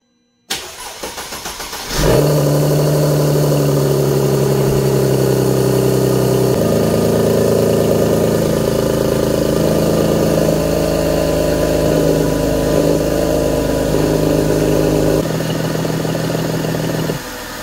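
A Mercedes engine starts and settles into a loud, steady idle with a throaty exhaust rumble, exhaust gas blowing from both banks during secondary air pump testing, running continuously close by.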